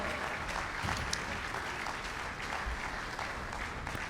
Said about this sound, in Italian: un applauso anche a colui, allo scenografo che le ha realizzate